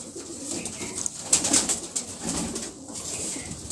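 Old-breed pigeons coo softly on a windy rooftop, with low murmuring calls and a few brighter bird notes repeating through the stretch amid steady breeze noise.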